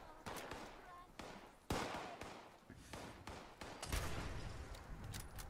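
Gunfire in Fallout 76, a run of sharp shots and bursts with a few heavier blasts spread across the stretch, close and loud over a busy game background.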